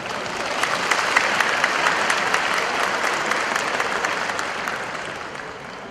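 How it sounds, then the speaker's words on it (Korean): An audience at a commemorative ceremony marking an 800th birth anniversary claps continuously, a loud, even wash of applause that swells early and fades slightly toward the end, with no talk. "여러분 큰 박수로 환영해 주십시오."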